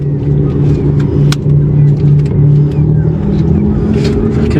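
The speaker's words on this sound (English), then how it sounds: "Now you can hear our engines, can't you?" Small inshore fishing boat engines off Cornwall drone steadily and close, a low continuous rumble with a slight hum holding throughout, partly masked by wind and water noise with voices in the background.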